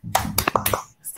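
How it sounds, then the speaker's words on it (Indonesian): A classroom of children doing a rhythmic tepuk semangat clap chant, a quick burst of sharp, close claps in a patterned rhythm over about a second, with a short pause before a final clap. "kita bersama-sama tepuk semangat dulu biar lebih semangatnya"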